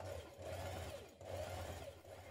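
A sewing machine runs gathering stitches along a ruffle for a dress, humming steadily in two close, even bursts with a short pause between.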